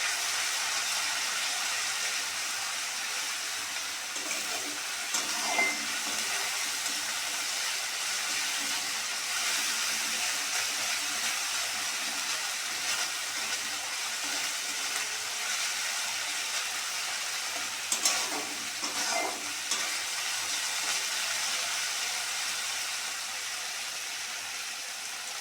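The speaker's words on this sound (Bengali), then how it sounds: "এবার মশলাটা ভালো করে কষে নেব।" Spice paste with turmeric frying in oil, a long steady hissing sizzle that barely changes, with a few faint stirring scrapes rising briefly out of it.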